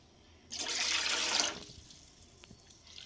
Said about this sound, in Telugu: రెండున్నర కప్పులు నీళ్ళు పోస్తాను అనమాట